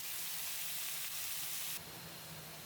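Greens, capsicum and pumpkin hitting a hot frying pan, a soft continuous sizzle and hiss that drops a little in level near the end, heard alone without voices.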